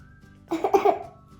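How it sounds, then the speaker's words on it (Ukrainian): A young child gives a quick run of three or four short, close coughs during a pretend doctor's exam in a play session, set against a quiet room. "Покашляй."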